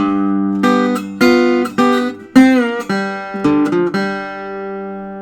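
A guitar plays a short blues phrase, plucked notes and chords each ringing out before the next, with one bent note in the middle; clear and alone.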